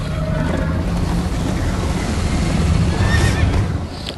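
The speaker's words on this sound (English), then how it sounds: "First time on a horse here." A horse whinnies in the Minecraft Story Mode video game, one loud, close neigh ringing out over a rushing background of game sound.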